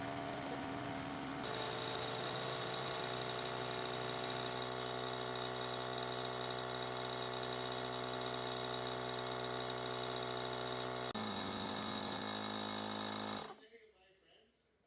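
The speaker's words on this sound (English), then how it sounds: "they're air compressors. All they're doing is shooting air" Battery-powered foamer air compressors, a Neburia V2 and an IK, run with a steady droning hum that shifts in tone partway, then cut out near the end, leaving quiet room sound.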